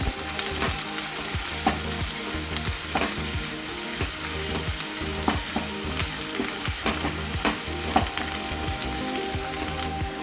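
Chopped onion sautés in a hot pan for a besan dish, a steady close sizzle with rhythmic scraping strokes of a spatula stirring throughout.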